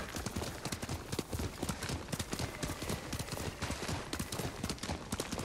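Horse hooves trot in the Ghost of Tsushima video game, a fast, even clip-clop of hoofbeats repeating steadily throughout at moderate volume.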